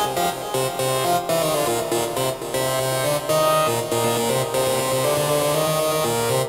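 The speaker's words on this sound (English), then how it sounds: "That's what our hypnotic techno synth is going to sound like." Hypnotic techno synth patch loops a repeating pattern of sustained, buzzy tones with steady rhythmic pulses, dense and continuous with no voices.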